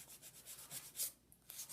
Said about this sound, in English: going to sand the nail, the edges of the nail